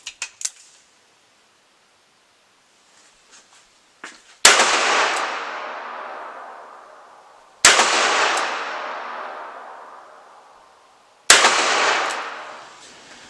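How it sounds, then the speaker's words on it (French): A Ruger SP101 .38 Special revolver fires three loud, sharp shots about three seconds apart at 15 metres. Each blast rings out in a long decaying tail, preceded by a few faint clicks, with no talking. "on va essayer des 5 cartouches à 15 mètres pour avoir une première sensation et pour voir si l'arme est centrée ou pas"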